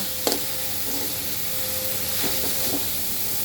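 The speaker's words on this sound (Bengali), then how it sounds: "এই আমি বাঁধাকপিটা দিয়ে দিচ্ছি" Chopped cabbage steams and hisses in a hot pan on the stove, a steady sizzle with a few brief clicks of stirring and a thin whistling tone partway through.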